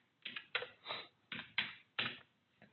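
Clacky keystrokes on a computer keyboard while code is typed, arriving as a handful of distinct taps and short bursts at an uneven rhythm, close and fairly quiet, with no voices.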